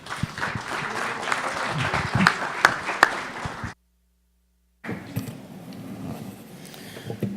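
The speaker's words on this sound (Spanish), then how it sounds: "Recibamos con un caluroso aplauso al doctor Sebastián Mas Mayoral." A conference audience at a geospatial information session claps warmly for a speaker, a moderate wash of hands with a few sharp claps, cut by about a second of silence before the applause resumes more softly.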